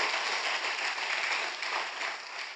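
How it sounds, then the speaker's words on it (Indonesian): Church congregation breaking into sustained, dense applause, loud and even throughout with no talking over it. "Tepuk tangan yuk sekali lagi yang paling meriah buat Tuhan kita."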